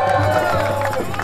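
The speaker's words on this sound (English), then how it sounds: "Give it a round of applause." A rally crowd at City Hall cheers and shouts in a loud, continuous roar, with voices mixed into the noise.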